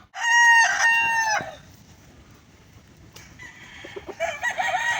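An Asil chicken gives one loud, close crow at the start, followed by a quieter stretch and then a run of sharp clucks and squawks building toward the end.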